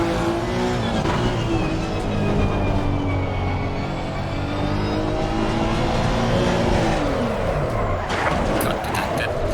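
A race car engine howls steadily at high revs through a flying lap in a racing video game, loud and continuous, with gear shifts and a sharp engine drop and rise near the end.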